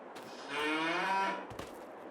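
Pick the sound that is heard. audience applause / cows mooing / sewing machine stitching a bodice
cows mooing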